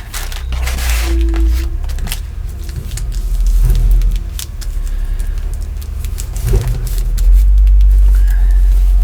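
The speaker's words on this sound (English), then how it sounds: "Must be a bigger truck." A large garbage truck rumbles past outside, a loud low engine drone that swells and fades with clanks and thumps, while birds chirp faintly in the background.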